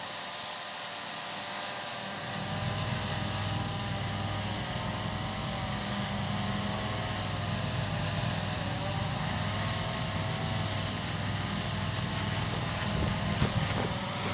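A Blade 350QX RC quadcopter's motors whine steadily at close range, a high buzzing hum that holds level throughout with slight wavering in pitch.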